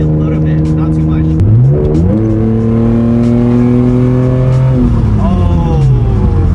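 A 1999 Nissan Skyline GT with a loud Tomei exhaust accelerates hard, its engine drone climbing in pitch through two gear shifts, heard loud and close from inside the car.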